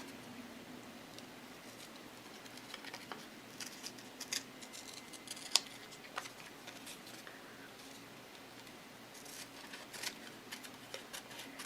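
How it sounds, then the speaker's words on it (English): Scissors snipping out individual lines of printed paper text for a mixed media art journal, a faint run of small, irregular clicks and snips, close but very quiet against a soft hiss. "I'm going to cut out each line."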